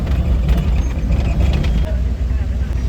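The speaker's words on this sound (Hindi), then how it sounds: "पूरे चारों तरफ ट्रैफिक ही ट्रैफिक है" Heavy city traffic idles and rumbles at a road signal under a metro line on a rainy day, a dense, loud, close engine drone throughout with no clear speech.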